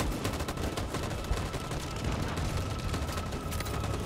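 Sustained gunfire fills a shootout in the video game Detroit: Become Human. Dense, rapid reports repeat continuously like automatic weapons, loud and close, with no pause across the span.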